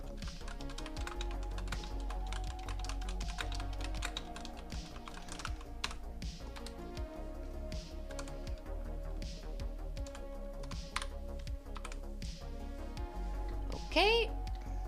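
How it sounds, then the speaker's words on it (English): Someone types steadily on a computer keyboard, producing a continuous stream of close, crisp key clicks with an uneven rhythm, ending with a brief squeaky chirp. "I'm doing so excellently at typing today."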